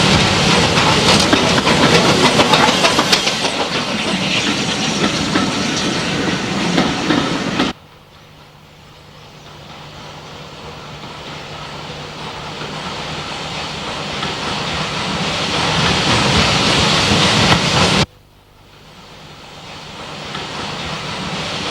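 A Beyer Peacock narrow gauge steam train on a Spanish line rattles through orange groves, a loud continuous rumble and clatter that cuts off sharply twice before rising again.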